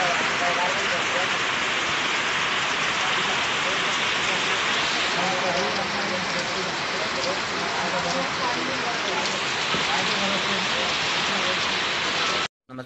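A heavy downpour drums on roofs and a flooded road in a Bihar village, with water dripping through a shop roof; the rain keeps up a loud, steady hiss before cutting off abruptly at the end.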